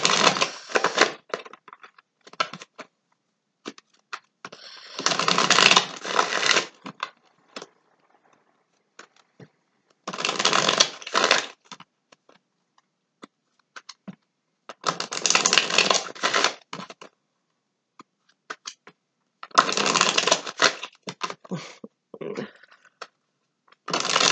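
A deck of tarot cards is shuffled in repeated bursts of riffling and flapping, separated by quiet gaps with scattered small taps and clicks, close and fairly loud.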